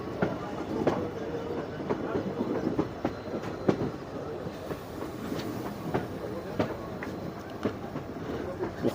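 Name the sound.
train running on rails, turning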